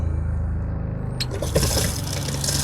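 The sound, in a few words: RV sink water pump running, water flowing from faucet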